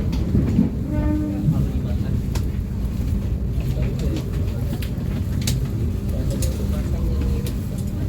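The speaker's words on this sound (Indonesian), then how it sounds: "Kereta api Harina sedang merapat di stasiun Surabaya Pasar Turi" A Harina economy-premium passenger train pulls into Surabaya Pasar Turi station: a steady low rumble and rolling rattle of the cars inside, with a brief tonal squeal early on and passengers' talk around.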